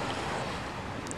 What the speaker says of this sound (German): Die Flut.